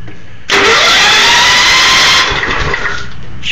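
A tractor engine, model 1450, cranks and catches, then runs loud and steady close by for a couple of seconds before dropping to a lower idle.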